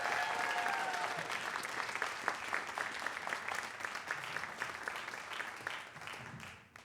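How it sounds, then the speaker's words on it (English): An audience at a city business recognition awards evening gives a steady round of applause, dense clapping that holds level and then tapers off at the end. "one more round of applause for all of the outstanding businesses recognized tonight"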